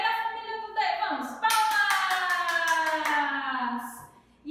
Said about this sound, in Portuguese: Então vamos bater palmas para o D e a família do D.